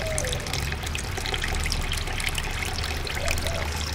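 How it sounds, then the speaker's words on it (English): Warm water drains steadily from a household water heater's drain outlet into a collecting container, a constant splashing trickle that stays even and fairly loud throughout, with no talking. "So here you can see the water is coming"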